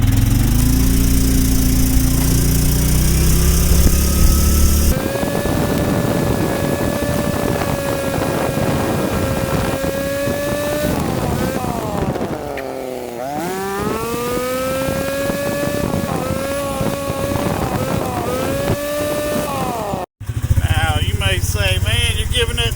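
Club Car DS golf cart fitted with a Predator 459cc engine pulls away hard from a dead stop, a loud rising engine drone with climbing harmonics that dips and surges again near the end, with people talking over it.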